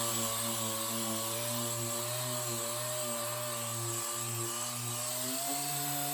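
A car headlight lens is sanded with 1200 grit sandpaper, a steady powered machine drone with a humming, slightly wavering pitch that runs close and constant for the whole stretch, with no voices.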